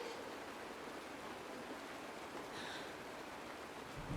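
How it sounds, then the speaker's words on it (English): Rain falls steadily, a soft, even hiss of water that holds without a break from start to finish, faint and distant, with no voices. "It's raining."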